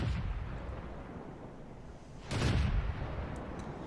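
A single heavy cannon shot from an M8A1 tank in World of Tanks booms about halfway through, a sharp blast over a low rumbling engine and ambient battlefield bed.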